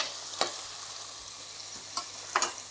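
Onions, curry leaves and green chillies sizzle steadily in a pan for a chicken masala curry, with a few sharp spoon scrapes as they are stirred, close and fairly quiet, no talk.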